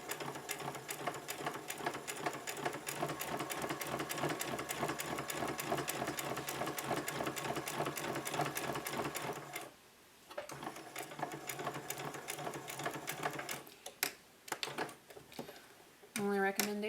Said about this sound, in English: you can go back and back stitch it.